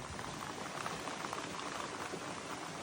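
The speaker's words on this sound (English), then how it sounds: "it is pouring out" Heavy rain pours steadily outside a small camper trailer at a camping site, a dense, even hiss of drops drumming on surfaces that stays loud and constant throughout with no voices.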